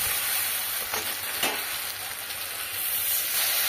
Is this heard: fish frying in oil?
yes